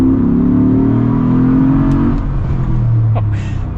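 A Jeep Gladiator 392 with a V8 Hemi accelerates, its deep engine drone loud and steady before easing slightly in pitch toward the end, with no talking.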